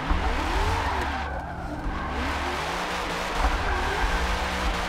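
Car tires skidding and squealing in a racing game driven with a Logitech G920 wheel while warming the tires, a loud continuous screech over engine drone, sustained without pause and no talking.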